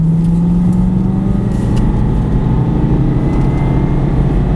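A learner driver's car accelerating during a driving lesson, steady engine drone throughout with a rising tone, loud and close from inside the cabin, no talk.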